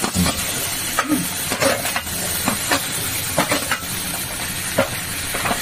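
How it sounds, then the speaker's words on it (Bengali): Vegetables half-cooked and frying in a pan for a milk shukto dish, giving a continuous hissing sizzle with scattered stirring clatters and scrapes, close and fairly loud. "হ্যাঁ, সবজিগুলো ভাজা হচ্ছে, অর্ধেক সিদ্ধ হয়েছে।"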